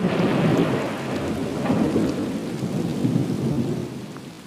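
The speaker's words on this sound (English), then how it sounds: "thunder and lightning drown out the relentless beating rain." Thunderstorm with heavy rain, a dense steady downpour hiss layered with deep rolling thunder that swells and fades, loud and close, with no voices.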